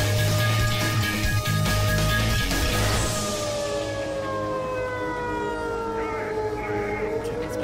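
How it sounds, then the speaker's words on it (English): Air raid siren in the video game Black Mesa, a Half-Life remake, wailing long and loud and then winding down in pitch, with game noise beneath and no voices over it. "The air raid siren"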